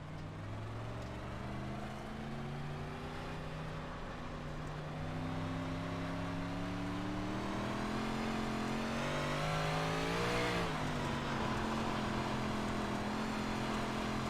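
Big Block Modified race car engine in a racing game, a loud continuous drone rising and falling in pitch as the car shifts and accelerates around the track, with no talking.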